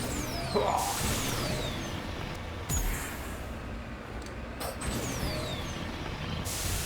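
Vehicle driving across terrain in the video game Mass Effect, a steady mechanical rumble with airy hissing bursts and occasional thuds, moderately loud, no voices.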